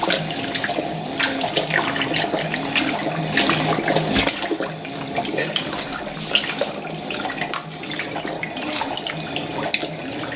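A Fisher & Paykel Smart Drive GW712 washing machine fills with water in a steady, loud rushing stream that runs without a break, with faint clicks and knocks layered over the flow.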